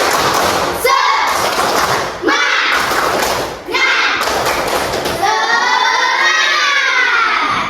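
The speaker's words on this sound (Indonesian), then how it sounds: "Tepuk semangat." A school class in an Islamic religious education lesson does a rhythmic spirit-clap chant: loud, heavy unison claps and thumps in short bursts, with children's voices shouting the chant between and over the beats.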